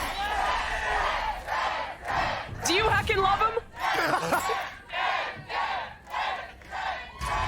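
Esports arena crowd at a Valorant VCT Americas Kickoff play-in match between Sentinels and G2 Esports chants a player's name in steady rhythmic bursts, loud and close, with a caster talking over the chant.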